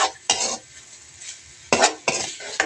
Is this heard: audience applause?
no